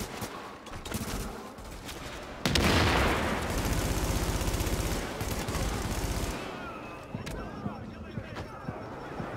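A grenade bursts in a loud, close explosion amid gunfire in the video game The Division, its blast rolling out for several seconds before fading into softer combat noise, with voices of players chatting over it.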